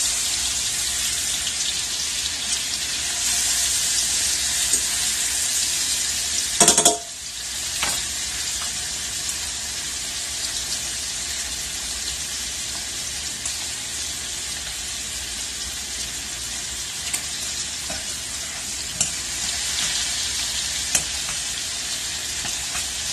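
Ahi tuna sears in a hot pan while being basted, giving a steady, close hiss of sizzling oil with a brief louder burst of spattering partway through and no talking.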